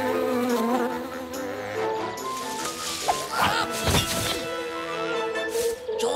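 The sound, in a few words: mosquito buzzing in a cartoon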